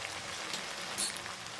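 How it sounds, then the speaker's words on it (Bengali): Mixed vegetables fry in a pan for a bhetki fish-bone chorchori, giving a faint, steady sizzle with a small brief crackle partway through. "সব রকম সবজি ভালোভাবে ভেজে নেব।"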